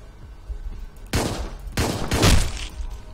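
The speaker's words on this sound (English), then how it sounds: "Pistol." Pistol fire in the top-down action game Hotline Miami 2: Wrong Number, with two loud, sharp bursts about a second apart followed by a trailing ringing decay, no talking over it.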